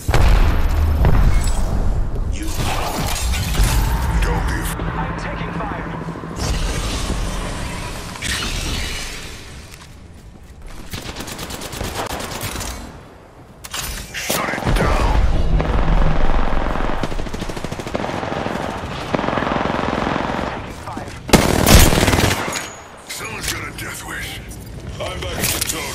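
Gunfire and explosions in the Apex Legends video game: dense machine-gun bursts and booming blasts come in loud waves, with brief lulls and in-game voice lines mixed in.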